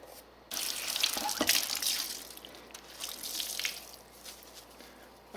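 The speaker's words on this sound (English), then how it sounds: "So I'm just going to wash this up" Water runs and splashes as a Camp Chef Stryker cooking pot is rinsed and washed, a steady close-up rush of tap water with brief louder surges and no talking.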